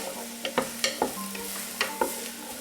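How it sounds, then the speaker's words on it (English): A spoon scrapes and taps around a green pan while a cream of mushroom mixture is stirred, giving several sharp clinks over a soft, steady sizzle, close and clear with no talking. "So I'm just kind of making a nice little cream of mushroom mixture here."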